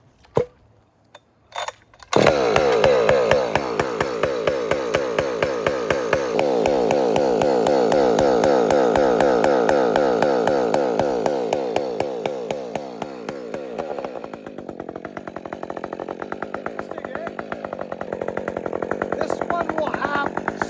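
A ported Husqvarna 564XP chainsaw fires up after a couple of pulls and revs loudly while cutting 14-inch firewood, its high buzzing whine sagging under load through the cut and then settling into a rough idle and rev.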